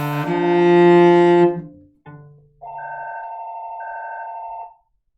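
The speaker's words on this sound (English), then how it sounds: "Forgot to turn the ringer off on the phone" Electronic telephone ringer sounding loud and close: a sustained harmonic tone for about a second and a half, a short blip, then a steadier two-pitch warble lasting about two seconds, with no talk.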